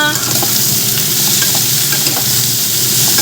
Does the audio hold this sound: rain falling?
no